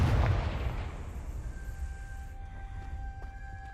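A Confringo spell explosion in the video game Hogwarts Legacy: a deep booming blast that rolls and decays over several seconds, with a faint high ringing tone lingering in the tail.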